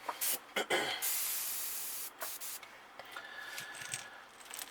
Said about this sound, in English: Okay, just lightly spray.